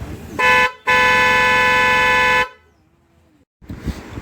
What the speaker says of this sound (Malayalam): ഇപ്പം നമ്മൾ കേട്ടുമല്ലോ ആ ഹോൺ അടിച്ചത്, നല്ല അടിപൊളിയായിട്ടുള്ള സൗണ്ടാണ്